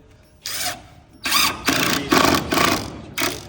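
A power drill drives cabinet screws while a bench is being built: five loud, close bursts of whirring motor, each lasting under a second, separated by short pauses.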